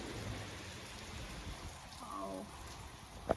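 Heavy rain falls outdoors at night, heard from a balcony as a steady, faint, broadband hiss with soft patter, briefly joined by a faint tonal sound and a small sharp knock at the end.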